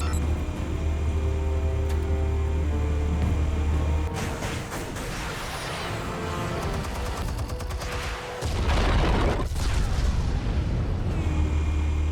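Explosives detonating in the Batman: The Telltale Series video game, a long loud rumbling blast with layered booms and debris that surges again near the end, with no voices over it.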